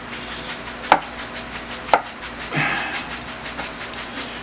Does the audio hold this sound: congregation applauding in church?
no